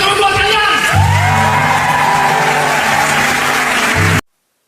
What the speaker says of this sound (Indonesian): Jadi tepuk tangan dulu buat kalian.